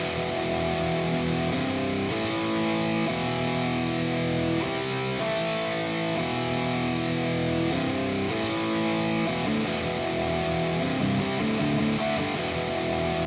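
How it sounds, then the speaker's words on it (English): Distorted electric guitar plays a continuous, thick riff with sustained chords throughout, steady and loud with no pauses. "So here's the guitar."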